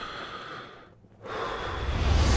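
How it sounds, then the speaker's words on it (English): Spider-Man breathes heavily inside his mask in a movie trailer, a close, airy exhale fading into a brief pause before a rough, loud breath draws in and builds. "hearing his heavy breathing."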